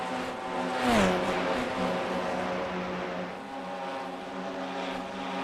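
Simulated race cars at Bathurst in a sim racing game sweep past, the engine note rising then dropping sharply in pitch as one car flies by, followed by a steady droning whine from cars continuing on.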